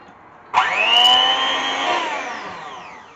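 An electric mixer whirs on at high speed, beating oil and eggs for a carrot cake, starting abruptly and running steadily before its pitch slowly sags, loud and close with no talk.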